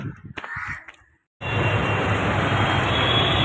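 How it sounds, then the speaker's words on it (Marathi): A sudden loud, steady rumbling roar of a train rolling in, following a brief moment of quiet and some faint bird calls. "चल ना चल ना ट्रेन आली बाबा"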